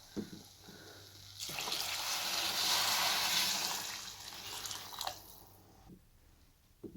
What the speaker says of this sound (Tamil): நம்ம ரைஸுக்கு தேவையான அளவு தண்ணி ஊற்றிக்கலாம்.